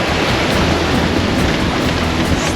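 Big ocean waves heard from a sailing boat, a steady loud broadband rush of surf and water with wind, unbroken and with no voices.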